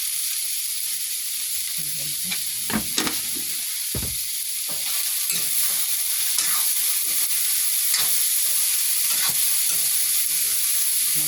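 Ginger, garlic, cumin and spices frying in a pan give a loud, constant hissing sizzle, with a few clanks and scrapes of stirring early on and the crackle continuing steadily.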